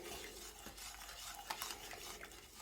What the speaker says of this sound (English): then we're going to stir this in